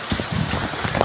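Steady rain pours down during a flooding downpour, a dense hiss of drops falling close by for a brief moment, with no voices.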